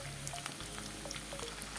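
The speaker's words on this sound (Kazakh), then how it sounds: "Ары қарай етімізді салып қуырып аламыз." Chicken meat frying in a pan, giving a dense, continuous crackling sizzle like rain on a surface, close and steady.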